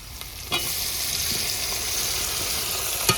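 Tomatoes and onions stirred and fried in a pan for mutton kurma, making a continuous close sizzle broken by a few sharp spatula knocks and scrapes, with no talk.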